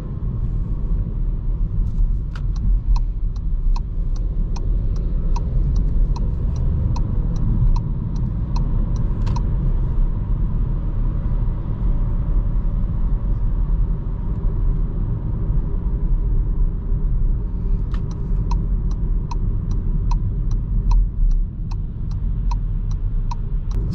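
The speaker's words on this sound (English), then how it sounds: "this is going to be a little acceleration for you guys and a little highway drive" A Volkswagen Taigo 1.0 TSI DSG crossover accelerating, heard from inside the cabin as a steady low engine and road rumble, with a rapid ticking, like an indicator, in two stretches.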